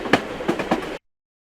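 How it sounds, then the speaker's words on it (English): A brief train sound effect from a Roblox sound design kit: about a second of rhythmic clattering rail clicks with repeated sharp bursts, then it stops abruptly into silence. "Nice trains."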